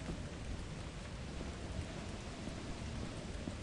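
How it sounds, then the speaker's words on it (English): Steady, continuous rainfall in a video game, a dense broadband hiss that stays at an even level throughout with no voices over it. "It is rainy, right?"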